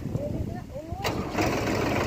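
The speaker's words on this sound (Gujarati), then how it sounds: "હવે ટ્રેક્ટર ચાલુ થઈ ગયું છે" A tractor engine cranks with a rising whine, then catches and settles into a steady rumble as a voice talks over it.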